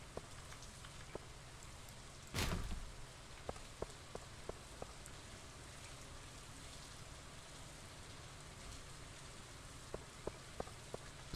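Gentle rain in the farming game Stardew Valley, a low steady hiss of falling rain with scattered faint drips and one brief louder burst, otherwise calm and free of speech.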